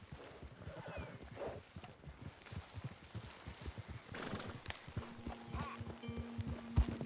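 Horse hooves clip-clopping in Red Dead Redemption 2, a steady run of close, regular hoof strikes with an occasional whinny, set against outdoor game ambience and a low sustained hum near the end.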